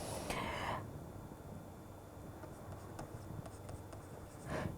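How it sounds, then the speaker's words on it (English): Chalk or marker scratches on a board during a fluid dynamics lecture, with faint intermittent strokes and taps against a quiet room hiss. "let me sort of write this down"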